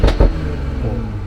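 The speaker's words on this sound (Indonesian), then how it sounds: "Coba digeber dari dalam kabin." A Toyota GR Supra engine revs, heard from inside the cabin: two loud, quick blips followed by a deep, sustained engine rumble, close and loud.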